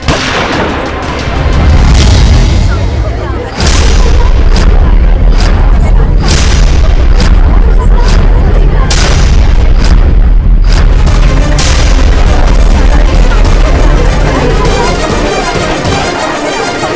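Loud booming blank gunshots crack out repeatedly in a courtroom, sharp bursts spaced irregularly over a heavy rumbling background, with scattered voices in between.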